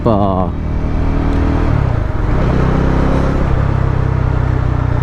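A Bajaj Dominar 400 BS6 touring motorcycle gives a deep, steady exhaust note up close, low and not harsh, with a voice talking over it.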